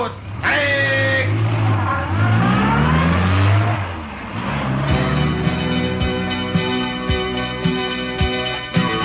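A car engine revs hard and pulls away, a loud steady mid-pitched drone with rising pitch sweeps that settles into a constant running tone, close and continuous throughout.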